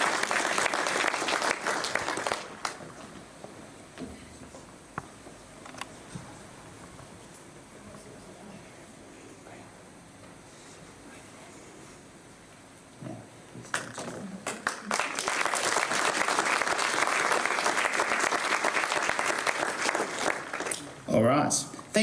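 Audience at a 2021 school awards ceremony applauding in two strong bursts, opening and closing the stretch, with a quieter lull of scattered claps and room noise between them.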